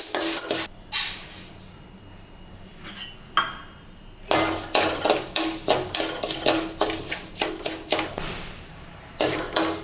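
Millet is dry-roasted in a pan, with bursts of dry rattling and scraping as a spoon stirs the grains against the metal, broken by short quiet pauses, loud and close.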